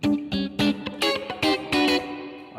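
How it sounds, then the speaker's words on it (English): Choppy funk rhythm guitar in the key of E with heavy reverb and distortion plays short, bright strummed chord stabs whose tails ring and wash into each other. "Wow, that's a lot of reverb."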